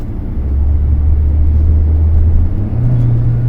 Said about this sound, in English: wow, it downshifted so swift into third gear and the power is all available